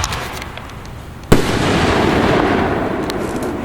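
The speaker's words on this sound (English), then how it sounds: "Fireworks show." A backyard fireworks show on July 5, 2020 gives one sharp, loud bang followed by a sustained crackling hiss, close by and without talk.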